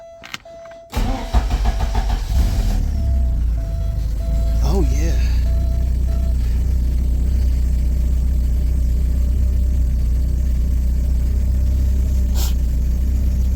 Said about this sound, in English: I turned the motor over a couple of times